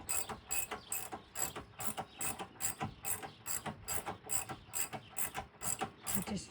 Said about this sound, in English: snug it up with the torque wrench to 20 foot-pounds